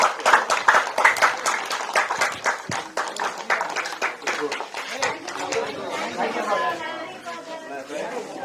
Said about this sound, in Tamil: அனைவரும் கைத்தட்டி இவர்களை வாழ்த்துக்கள்.